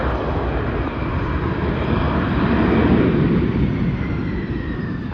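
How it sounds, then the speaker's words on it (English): An airliner landing at Charlotte with its reverse thrusters engaged sends up a loud, steady, broad roar that holds for several seconds and swells slightly midway, with no voices over it. "I've never seen those reverse thrusters before"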